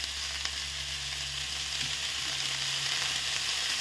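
Bottle gourd, cut fine like cabbage with a green chilli and salt, sizzles and fries steadily in a pan, the hiss continuous and close with a few soft stirring scrapes and no talk.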